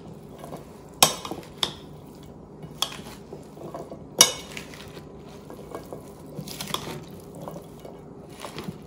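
Mediterranean salad of vegetables and lemon being tossed in a bowl, with a few sharp clinks of a utensil against the bowl over soft, steady mixing rustle, no talking.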